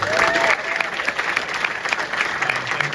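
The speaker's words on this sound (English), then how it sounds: "So if we can give all of them a round of applause." Sustained audience applause fills a London cinema, the Prince Charles Cinema, a dense steady clatter of many hands clapping throughout with no pauses.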